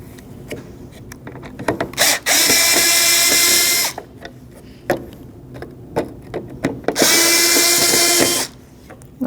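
A power driver backs out Phillips mounting screws from a Toyota 4Runner headlight assembly in two loud sustained whirring runs of about one and a half seconds each, separated by clicks and handling noises of the parts.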